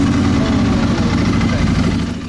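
Ducati Monster motorcycle engine, just fitted with a new Yuasa AGM battery, running at a steady idle, loud and close with a constant low rumble and no pauses.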